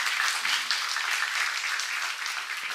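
Applause from a church congregation at a seminar, a steady wash of many hands clapping at moderate level throughout, with no speech over it.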